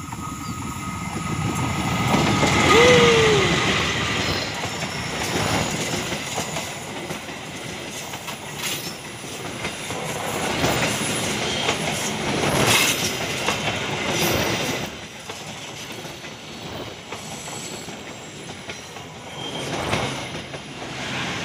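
The Lodaya passenger train rumbles past through thin morning fog with rhythmic clickety-clack of wheels and a brief squeal, loud and close for a long stretch, swelling and fading.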